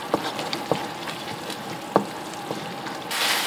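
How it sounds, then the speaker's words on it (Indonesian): Dry salty fish chili sambal, sweetened with a little sweet soy sauce or palm sugar, is stirred in a pan, giving soft scraping strokes over a faint sizzle that brightens toward the end. "kita aduk hingga rata"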